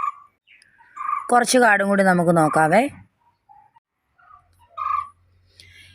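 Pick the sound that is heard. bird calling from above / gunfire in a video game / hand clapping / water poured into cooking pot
bird calling from above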